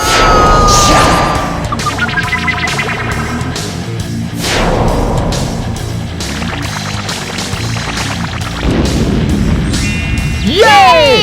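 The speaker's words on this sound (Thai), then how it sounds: "อุลตร้าแมนทีก้ายิงพลังจ้า" An Ultraman Tiga toy figure fires a power beam: a loud, busy burst of electronic blasts, crashes and zapping effects running the whole length, ending in sweeping chirps, with no speech.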